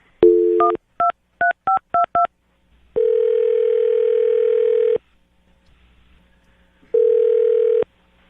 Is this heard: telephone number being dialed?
yes